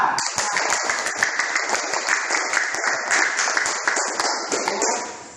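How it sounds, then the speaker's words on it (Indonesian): Classroom applause from students after a history lesson role-play of a youth congress, steady dense clapping with a few sharp taps and faint voices mixed in, sustained for several seconds. "Tepuk tangan untuk kita semua."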